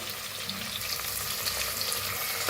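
Green chili, ginger and garlic paste frying in a pan with curry leaves gives a soft, continuous sizzle and crackle, close but fairly quiet, with no talking.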